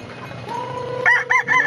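A rooster crows once at a game farm, a clear nearby call with a rising, wavering end, over faint background noise.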